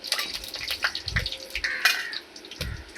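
Mustard seeds spluttering in hot oil in a pan while tempering for a beetroot and sprouted green gram thoran, giving sharp scattered pops and crackles over a soft sizzle, fairly close.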